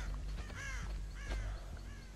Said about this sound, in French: Oh, il y a des corbeaux et tout.